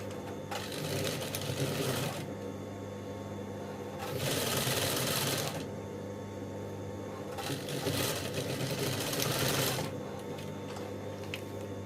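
Sewing machine stitching the bone channel of a wedding dress bustier, running in three steady bursts with brief pauses between them, close and clear with no talk.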